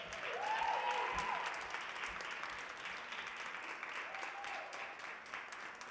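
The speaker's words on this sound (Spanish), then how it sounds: "un fuerte aplauso entonces a la alumna que han recibido el premio Espíritu Mensonet 2021" A school crowd applauds a student receiving the Espíritu Mensonet 2021 award, steady sustained clapping at moderate distance throughout, with a brief voice or whistle-like tone rising over it.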